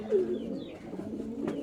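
Pigeons coo steadily and up close in a backyard coop shared with hens, a low soft warbling that runs on without a break, with no talk over it.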